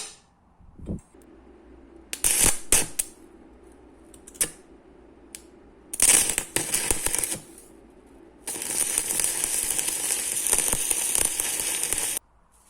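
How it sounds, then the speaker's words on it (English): Steel hinge bar on a homemade 25-ton forging press being welded: short crackling bursts separated by pauses, then a sustained harsh sizzling crackle lasting several seconds, close and fairly loud. "So now I can cut it, weld it, and it will be done."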